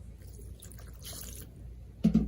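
Water splashes onto an Acer Chromebook 315 laptop, a short bright slosh right at the end after a quiet stretch of faint drips and rustling.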